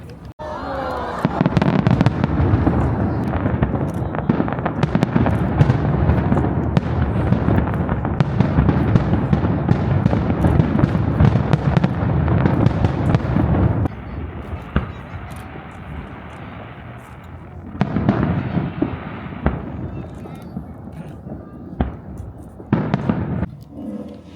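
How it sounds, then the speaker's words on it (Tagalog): Fireworks crackle and pop continuously in dense, loud bursts near a lit bridge in Tokyo, then thin out to scattered bangs, with voices and crowd chatter underneath. "Diyan yata yung fireworks eh."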